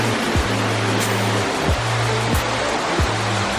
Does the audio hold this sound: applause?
no